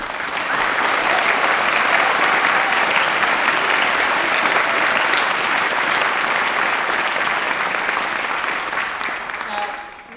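A crowd at a Green Party manifesto launch gives three campaigners a long, loud, sustained round of applause that stays full for about nine seconds before tapering off.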